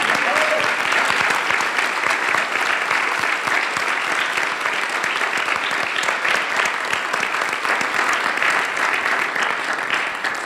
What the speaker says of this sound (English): I think we need to give one more round of applause